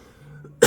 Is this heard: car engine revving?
no